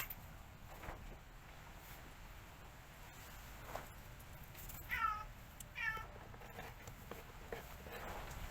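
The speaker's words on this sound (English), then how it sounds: "If you listen closely, you'll be lucky enough to hear my cat." Two faint, high meows from a cat some distance away, spaced about a second apart, over a quiet hiss and light background patter.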